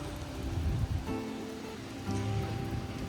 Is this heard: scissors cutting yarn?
no